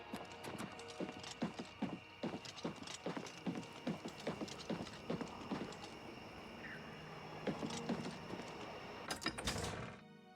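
Horse hooves clip-clop in a steady, even rhythm in the game Oblivion Remastered, close and fairly loud, with a brief lull midway before the trotting resumes and stops abruptly near the end.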